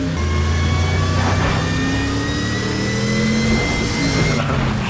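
A Ford Mustang engine in a Need For Speed racing game accelerates loudly and continuously, with a rising, strained mid-pitched roar that climbs through the gears.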